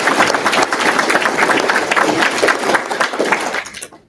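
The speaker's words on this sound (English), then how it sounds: "I think we should give them a round of applause." A graduation audience at a learning center breaks into sustained, dense applause, loud and steady throughout before tapering off at the very end.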